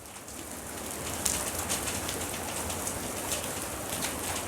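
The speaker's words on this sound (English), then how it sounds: "think it's starting to hail." Hail falls outdoors as a dense, continuous, even patter that stays at the same level throughout. There are no voices, and a faint bird call may be heard in the background.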